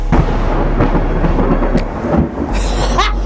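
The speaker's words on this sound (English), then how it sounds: "Thunder! Lightning! Now, you probably heard that because that was loud." A loud, close thunderclap rumbles and cracks through the whole stretch in a dense, rolling burst, with no talking.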